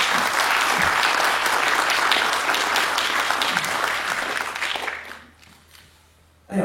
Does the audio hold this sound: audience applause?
yes